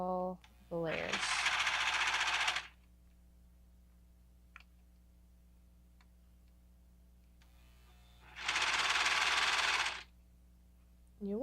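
A serger sews around the stacked fleece layers of a diaper cover, its motor running in two loud, steady bursts of a few seconds each, separated by a quiet pause, with a short start at the end.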